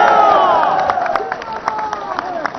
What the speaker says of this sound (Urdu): لگاؤ نا تالی یار